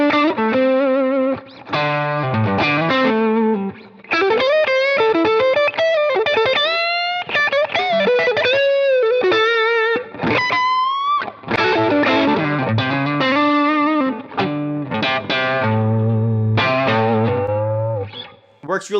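Overdriven electric guitar through a Telecaster-style twangy pickup plays a melodic line with held bends and chords, gritty and effect-laden, continuous and fairly loud with brief pauses.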